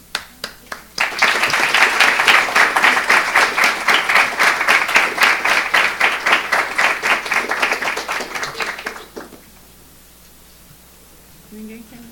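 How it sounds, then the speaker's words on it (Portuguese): Sustained audience applause at an architecture school anniversary ceremony, loud and steady for about eight seconds after a few scattered opening claps, then stopping abruptly into quiet room tone. "Só posso agradecer tantas palmas"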